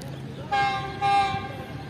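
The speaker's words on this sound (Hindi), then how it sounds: "तो 26 डाउन ज़िक्रिया एक्सप्रेस भी आ चुकी है, और इसकी लीड पर भी आज GU40 लगा हुआ है।" The 26 Down Zikriya Express, led by a GU40 locomotive, passes close by with a steady rumble of rolling cars and two loud horn blasts.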